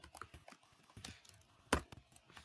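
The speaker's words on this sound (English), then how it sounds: "as you can see, I can type it myself." Keys click unevenly on a computer keyboard while Java code is typed into the Eclipse editor, quiet and close, with one sharper, louder keystroke near the end.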